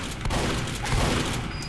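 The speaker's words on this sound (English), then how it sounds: "unfortunately I missed every shotgun shot, like a boss" Shotgun blasts in Team Fortress 2 ring out in a rapid cluster of booming shots, set against steady background gunfire from a chaotic multiplayer fight.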